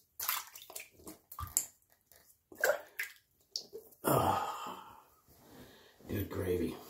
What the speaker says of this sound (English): I'm going to rinse off my face